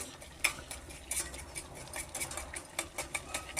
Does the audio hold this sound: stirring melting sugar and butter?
yes